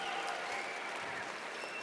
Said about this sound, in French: on peut les applaudir pour les remercier d'être là